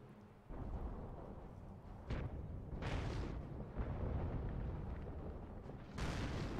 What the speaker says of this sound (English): So many huge explosions.